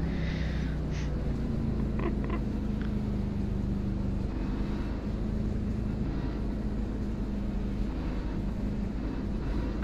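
Race car engines droning in the iRacing sim during a caution period at Richmond, a steady, low, continuous background roar with no talking.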